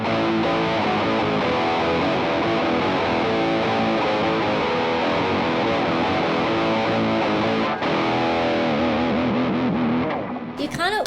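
Sustained electric guitar chords through an octave pedal, with a thick, doubled low octave and some grit, ringing continuously before a brief change near the end.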